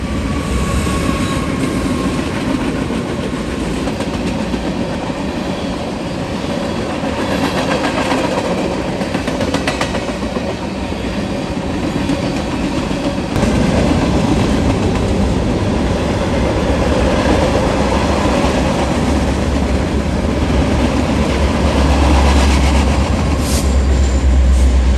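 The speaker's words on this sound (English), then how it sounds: "Midpoint of the train is an NS ES44AC acting as a mid" A long freight train rolls past, with an NS ES44AC locomotive working mid-train. A loud continuous rumble of wagons and wheels is heard close by and swells in the second half, without speech.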